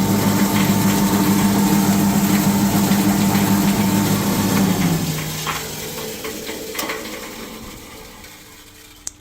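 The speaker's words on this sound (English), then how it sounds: "So as you see, that's a substantial electric motor." Large electric main motor of a copper wire recycling machine running with a steady tonal hum and whir that winds down after about five seconds, leaving fading mechanical noise.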